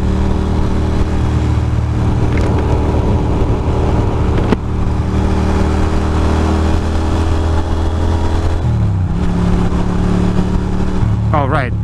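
Harley-Davidson motorcycles ride through a big Harley event, their steady, loud engine rumble droning without a break while voices talk over it.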